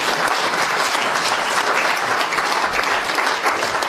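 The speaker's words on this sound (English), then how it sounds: "if you give them a big round of applause to encourage them as well" An audience gives a big round of applause, steady dense clapping that stays loud and even throughout without any talk.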